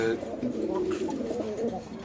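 Pigeons at a market in a caged pigeon sales area coo in soft, low repeated calls close by, mixed with a busy background murmur of people.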